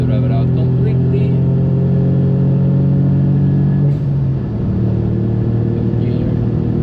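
A car engine accelerating hard on the Nürburgring, loud and close, a strong rising drone that briefly dips around a gear change before pulling again.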